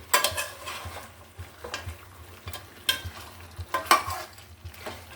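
Duck meat stir-fried with spices in a pan, scraped and turned in an uneven rhythm of close spatula strokes over a low steady sizzle, with no talk.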